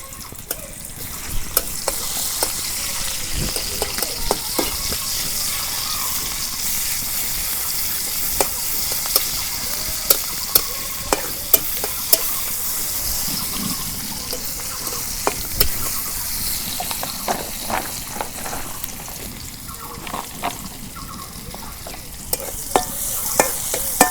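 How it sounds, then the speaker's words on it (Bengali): Chopped onion sizzles steadily in hot oil for a village-style fish curry, with frequent spatula scrapes and clinks against the pan throughout, close and continuous with no voices. "তেল গরম হচ্ছে, এখন পেঁয়াজ কুচি দিয়ে দেই।"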